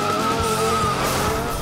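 Stunt cars at the Lights, Motors, Action Extreme Stunt Show at Disney's Hollywood Studios in 2011, with loud, continuous tire skidding and engine roar that holds steady and close throughout.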